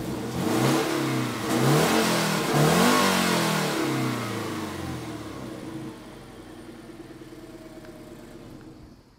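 The boxer engine of a 2012 Toyota GT 86 revs loudly in a couple of rising surges, then drops back and fades toward a quieter idle, with no voices over it.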